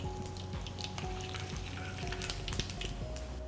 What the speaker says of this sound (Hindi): ऑयल गरम, उसमें जाएगा तेज पत्ता, जीरा, दालचीनी, इलायची और लौंग।